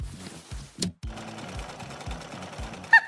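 Sewing machine stitching doll clothes from yellow curtain fabric, a rapid chugging run of regular thumps close by, with a brief sharp clack partway through.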